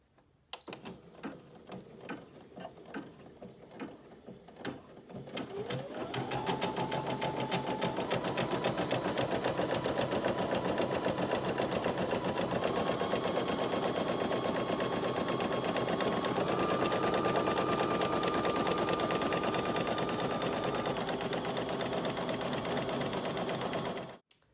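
An embroidery machine stitches a red thread border around an appliqué face, starting with a few slow stitches and then running in a steady, rapid, mechanical rhythm with rising motor tones before stopping abruptly.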